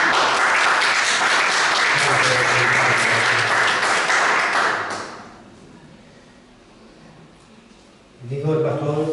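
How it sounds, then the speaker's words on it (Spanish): A church congregation bursts into strong, sustained applause for about five seconds, then quiets to a soft murmur with a voice before clapping and talk rise again. "Dale un fuerte aplauso"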